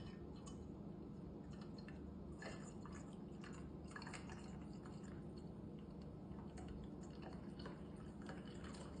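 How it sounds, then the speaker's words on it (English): A carbonated drink is poured down the spiral handle of a bar spoon, giving faint, steady dripping and trickling with small fizzy ticks, quiet and close, with no talking. "spiral handle design is so that you can pour carbonated beverages down it without them fizzing over"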